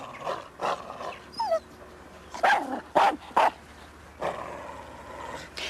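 A dog barks in short separate bursts, a few single woofs and a quick cluster of sharp barks, with a thin whine between them, fairly close and alone.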